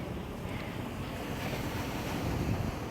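Ocean surf rolling into the bay along the Puerto Vallarta Malecón, a steady broadband wash of waves with wind noise buffeting the microphone, continuous and fairly close with no voices.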